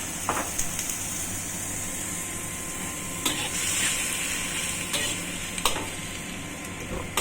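Squid frying in a pan of hot oil for adobong pusit, a steady, close hiss of sizzling with a few brief clinks and stirring scrapes breaking through the constant crackle.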